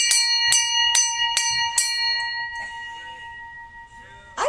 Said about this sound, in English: Yeah, the ship's bell.